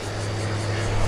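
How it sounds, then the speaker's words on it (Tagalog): A steady, low droning hum of an airplane passing over a quiet river, continuous and fairly distant, slowly growing a little louder. "May eroplano pa na nalipad"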